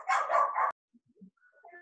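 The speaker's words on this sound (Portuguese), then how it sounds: "O cachorro só começa a latir na hora que eu ligo esse trem aqui." A dog gives a short burst of loud, close barks, followed by faint, scattered yips and whimpers in near silence.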